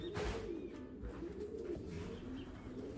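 Soft, low cooing of a racing homing pigeon repeating in a gentle rhythm, fairly close and steady throughout, with no talking.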